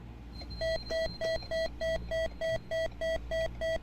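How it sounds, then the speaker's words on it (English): Rapid dosimeter beeping in a boiling water reactor simulator video game: a steady train of about a dozen short, bright electronic beeps in quick even rhythm, loud over a low background hum. "Why is there very rapid beeping?"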